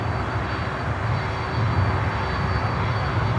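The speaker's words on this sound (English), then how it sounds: "the C-130. Contra-rotating" A large C-130-based cargo aircraft with contra-rotating propellers at Miami airport makes a loud, steady engine drone with a dense low rumble that swells slightly midway, with no voices.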